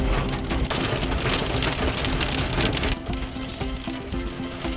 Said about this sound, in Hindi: मुनस्यारी ने हमारा स्वागत बारिश और ओलों से किया।